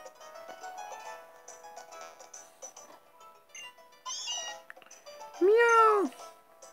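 A cat meows in the Pokémon Sun video game, one rising-and-falling call near the end that is loud and clear after quieter game sounds and faint tones.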